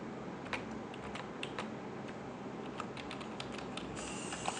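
Fast typing on a computer keyboard, heard as light, rapid key taps scattered over a steady background hiss, fairly soft and close.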